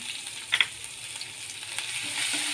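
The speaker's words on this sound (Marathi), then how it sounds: "तेलामध्ये आता त्याच्यामध्ये हिंग घालून घेत आहे हिरवी मिरची आलं आणि थोडासा लसूण" Asafoetida, green chili, ginger and garlic sizzling quietly in hot oil, a soft continuous crackle with a couple of brief sharper pops early on.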